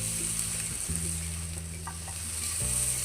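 Dal with kochur loti (taro stolons) frying in a pan, a steady close sizzle that runs unbroken through the clip, with no voices over it.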